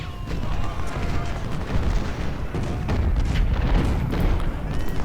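Gunfire at an entrenched enemy in the Ultimate General: Civil War video game, a steady battle din of repeated cracks and booming volleys over continuous low rumble, no gaps.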